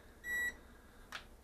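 A Mould King X6-33022 quadcopter gives a single short, clear electronic beep during its accelerometer reset, followed a moment later by a brief soft hiss against a quiet background.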